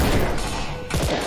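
Gunfire from a mobile shooting game, a dense burst of rapid shots packed into roughly a second, loud and continuous, with no talk over it.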